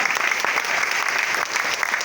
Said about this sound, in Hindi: एक बार तहे दिल से जोरदार तालियां